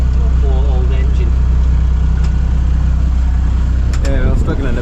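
A sailboat's engine drones low and steady as it labours upwind against strong wind, a constant loud hum with a voice speaking over it.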